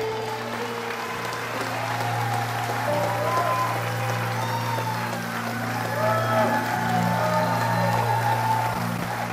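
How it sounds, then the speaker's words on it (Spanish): A church congregation applauds during a homily, a broad wash of clapping and crowd noise layered over a steady droning musical hum that holds throughout. "ese aplauso y ese grito"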